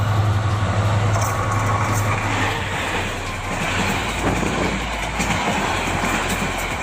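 A Bangladeshi intercity passenger train runs steadily, a continuous loud rumble and rattle of wagons on the rails with faint rhythmic clacking, heard from on board and with no voices.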